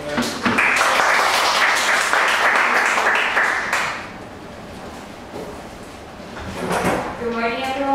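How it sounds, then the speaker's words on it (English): A room full of people applauds for several seconds at a morning presentation, loud and dense at first, then fading to a scattered patter before voices start talking over it. "give you a round of applause."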